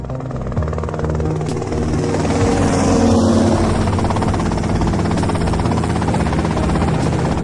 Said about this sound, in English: that's them and the chopper.